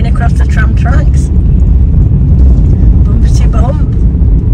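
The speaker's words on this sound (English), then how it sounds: "Going across the tram tracks." A car drives across tram tracks on a town road, with a steady, loud low road-and-engine rumble filling the cabin throughout and a voice speaking over it.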